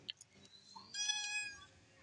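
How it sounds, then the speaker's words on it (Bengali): A domestic cat gives a couple of short soft chirps, then a longer drawn-out meow, close and fairly quiet in a calm room. "মিয়াও।"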